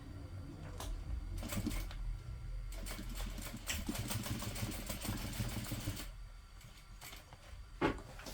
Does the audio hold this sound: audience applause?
no